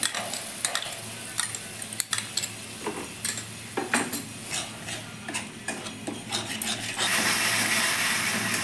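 Beaten sour yogurt goes into sizzling spices in a pan on low heat for Bengali doi pabda fish curry, followed by a close, steady stirring and scraping with soft sizzle and occasional clinks, no talk.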